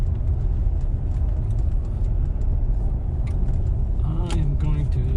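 A car drives downhill on icy roads after an ice storm and downshifts, heard as a steady low cabin rumble of engine and road noise with some rattling, and a voice or brief tonal sound near the end.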